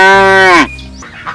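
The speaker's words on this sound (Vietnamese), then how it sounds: "Con bò." A cow moos once, a loud, close, drawn-out low call that ends abruptly, followed by quiet background.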